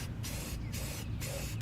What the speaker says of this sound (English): using this white spray paint just as a primer first